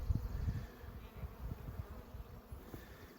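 Newly installed honeybees buzz at the entrance of a new hive on a farm, a steady close droning hum with faint scattered movement and no voices.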